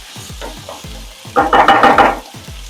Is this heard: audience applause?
no